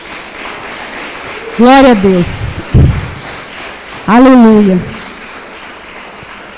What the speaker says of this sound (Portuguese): Você pode aplaudir Jesus por essa palavra,